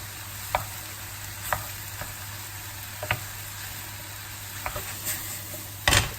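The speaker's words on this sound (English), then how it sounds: "Just stir all that through." Beef and vegetables fry in a pan under a low, steady sizzle while a utensil stirs them through with about half a dozen spaced knocks and scrapes, the last one louder, close up.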